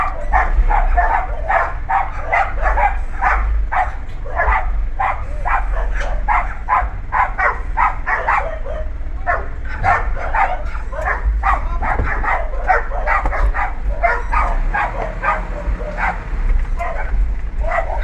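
Dogs barking repeatedly and steadily at a pig farm in Gabaldon, Nueva Ecija, a dense run of sharp yaps and barks that continues throughout over a low background rumble.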